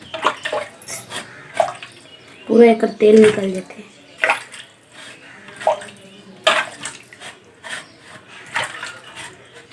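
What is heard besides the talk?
water running while washing steel utensils with hot water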